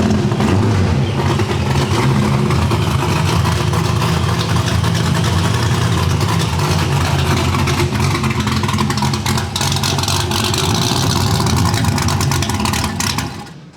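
A supercharged small-block V8 at its first start, loud and close, its heavy low rumble and idle running steadily throughout before cutting off at the very end.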